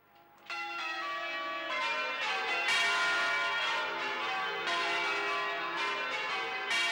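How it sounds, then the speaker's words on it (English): Church bells of St. Mary's Cathedral ring out in a loud, continuous peal, overlapping tones sustained and ringing without a break, no voices present. "it's all down to the ancient art of bell ringing"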